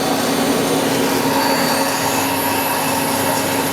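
Citizen M-20 CNC Swiss-type multi-axis lathe with its main spindle spinning at high RPM, a steady dense whirring roar with a thin high whine on top, loud, close and unchanging.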